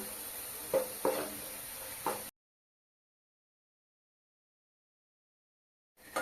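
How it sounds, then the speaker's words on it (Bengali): Spices, onion, ginger paste, turmeric, cumin, chili and coriander sauté in a pan for an oil-free paneer dish: a brief close sizzle with a few spoon clinks, then a sudden cut to silence before the sizzle returns at the end. "মশলাটা ভালোভাবে কষানো হয়ে গেছে"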